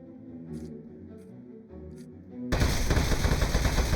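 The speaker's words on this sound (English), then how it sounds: "Keep shooting him" Rapid automatic gunfire from the video game Aperture Desk Job, fired at a metal enemy, bursts into a loud dense burst of shots that fills the last second and a half after quieter game sounds.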